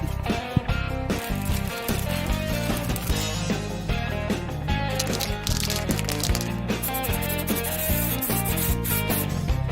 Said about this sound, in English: here I'm using a tack cloth, removing any dust from the sanding off the panel